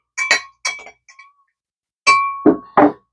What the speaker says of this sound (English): Give that a quick stir.